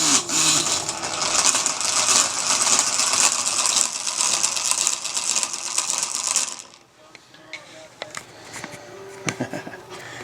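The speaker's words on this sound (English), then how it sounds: "when I push the trigger on my bracer, the Gatling gun spins" A steampunk shoulder-mounted Gatling gun on a battle harness spins its barrels with a loud, close mechanical whirring and gear rattle that runs for several seconds and then stops abruptly, leaving faint clicks.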